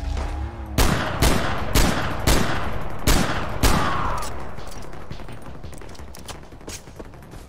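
Revolver fire in the shooter game Far Cry 4: six sharp, loud gunshots in an uneven rhythm over about three seconds, then a long, fading outdoor echo and ambience.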